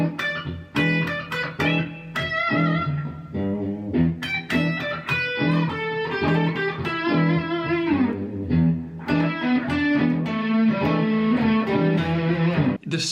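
An electric guitar with an effects-laden, slightly distorted tone improvises, weaving busy melodic runs and chord stabs that build tension and resolve rhythmically, played close and steady throughout.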